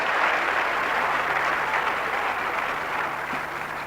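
Congregation in church claps during a sermon, a soft, distant, continuous wash of applause from many people, even in level throughout with no speech over it.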